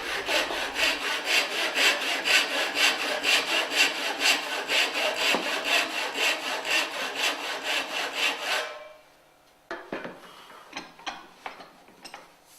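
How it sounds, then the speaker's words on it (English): Hand saw cutting through timber for a tee halving joint, a steady run of rapid rhythmic rasping strokes up close that stops, followed by a few scattered knocks and scrapes. "sometimes we can cut another cut in the middle, which makes the timber break up just that little bit easier"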